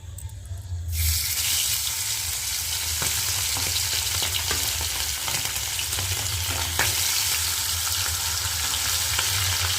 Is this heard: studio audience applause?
no